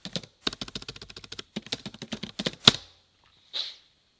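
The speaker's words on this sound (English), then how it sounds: "I want to type in people search" Fingers tap quickly on a computer keyboard in close, crisp bursts of keystrokes, with a short pause, one sharper final stroke, and then a soft trailing sound.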